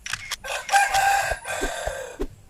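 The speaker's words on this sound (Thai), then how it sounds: "ข้าไม่ได้เซล ข้าขันทำคอเอียงเฉยๆ" A rooster crows loudly and close by, a drawn-out, wavering call with a few short clucking bursts before and after it, and no other sound.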